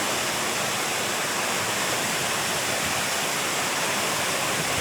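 River water at a camp in Tanay, swollen and muddy after days of rain and full of branches, rushes in a steady, dense, loud roar that fills the whole stretch without pause.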